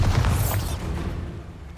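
Bombarda explosion spell in Hogwarts Legacy, a single loud booming blast that quickly rolls off into a fading rumble.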